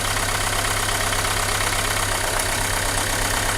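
A Renault Megane 2 car engine idles steadily, close and loud, with an even mechanical hum and faint knocking texture, no voices.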